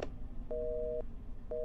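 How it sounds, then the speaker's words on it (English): A phone rings in the Roblox horror game Intruder: two bursts of a steady electronic two-tone ring, each about half a second long, sound over a low background rumble. "Your phone ringing. Pick up your phone."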